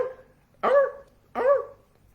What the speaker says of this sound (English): the neighbor's dog's actually barking at us right now